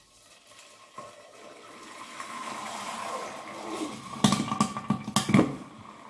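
Warm water poured into a saucepan of caramelized sugar, a faint steady wash of liquid that builds, then several sharp bubbling and sizzling bursts near the end as it hits the hot caramel; no talking.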